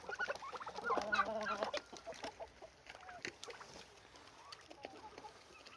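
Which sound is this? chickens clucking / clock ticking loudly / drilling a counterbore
chickens clucking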